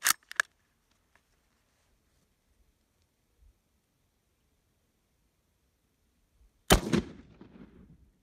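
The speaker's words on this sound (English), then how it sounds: "that was a really light hang fire" A surplus Italian 8mm rifle round goes off as a light hang fire: a sharp crack opens, then quiet with faint clicks, then a second loud report near the end with a brief rumbling decay.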